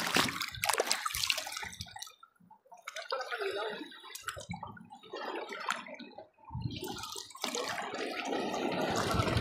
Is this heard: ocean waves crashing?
yes